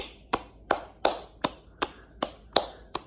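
A young girl claps her hands, nine sharp, close claps in an uneven but steady rhythm, roughly one every third of a second, with no voices.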